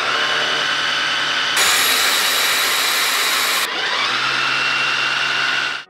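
A Jimmy HW11 Pro hybrid vacuum cleaner running its self-cleaning cycle: a loud, steady motorized whir that shifts abruptly to a higher, harsher whine for a couple of seconds, then drops back to a lower hum before cutting off.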